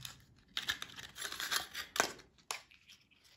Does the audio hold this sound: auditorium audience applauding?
no